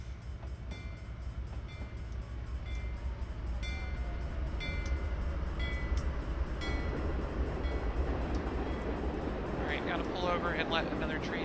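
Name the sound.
passing train in video game Train Sim 2015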